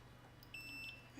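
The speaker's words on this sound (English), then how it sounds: "Beeps." A short high electronic beep from a Voron 0.2 3D printer during assembly, a single faint tone in a quiet workshop room with no talk.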